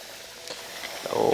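Chicken coated in flour drops into 350°F oil, and a quiet background hiss swells at the end into a louder, rising sizzle.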